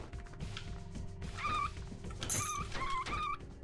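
Dog from the Catacomb Kids video game, yelping and whimpering in a few short bursts over a busy layer of game sounds and low rumble.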